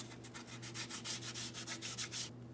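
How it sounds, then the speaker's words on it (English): Fine sandpaper lightly scuffs the mounting surface of a Ford Transit 250 bell housing in quick, rhythmic back-and-forth strokes, steady and close, stopping abruptly near the end over a low background hum. "I'm continuing with my fine sandpaper, just a light scuffing here"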